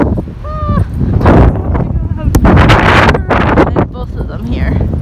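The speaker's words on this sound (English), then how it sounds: "it's pretty windy" Gusts of wind buffet the microphone in loud, rumbling bursts during an outdoor walk with dogs, while people talk nearby.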